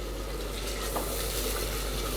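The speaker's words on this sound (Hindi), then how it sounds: "थोड़ी सी आलू फ्राई में जा रही है" Potatoes fry in a spoonful of oil in a handi, giving a steady close hiss with light crackling and occasional stirring scrapes, moderately loud and with no voices.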